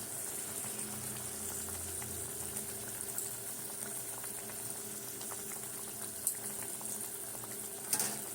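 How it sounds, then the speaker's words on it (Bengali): Chicken curry gravy with salt and turmeric boils steadily in a pan, giving a continuous bubbling simmer with a faint sizzle and a couple of small knocks near the end, close and without talk. "ঝোলটা ফুটছে"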